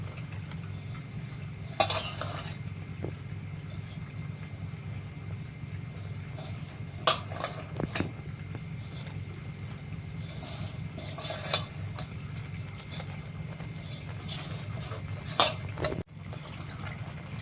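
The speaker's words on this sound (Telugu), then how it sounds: "ఇప్పుడు ఈ పంచదార పాకం అంతా ఈ పిండికి పట్టేటట్టు శుభ్రంగా కలిపేసుకోవాలి." Gram flour being stirred into hot sugar syrup in a pan for motichoor laddu, with intermittent scrapes and clinks of a spoon against metal over a steady low hum.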